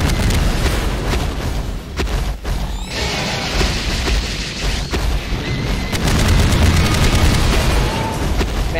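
Rockets fire and explode in Garry's Mod during a kaiju battle, making a loud, continuous wash of booming blasts and gunfire-like cracks that stay dense throughout with no clear gaps.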